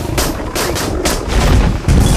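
Gunfire in a film scene, a rapid string of sharp cracking shots and booming impacts coming loud and close, layered over a dense rumbling background.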